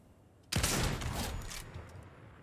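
A single sharp gunshot from the Hunter bolt-action rifle in Fortnite rings out loud and close, then decays into a fading tail with no follow-up shots.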